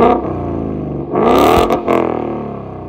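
A Ford Mustang GT with a 5.0 V8 and an MBRP exhaust is revved up close, giving a loud exhaust rumble that swells in two quick blips before falling back to idle.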